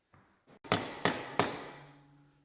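Three sharp metallic hammer taps on the cylinder head of a 2019 Honda Monkey Z125 engine, evenly spaced and close, each ringing briefly before fading, after a couple of softer knocks.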